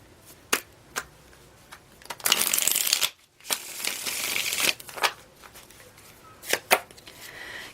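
Tarot cards being shuffled by hand, with quick riffling bursts and sharp card taps and slaps, some crisp flurries lasting about a second, heard up close with no speech.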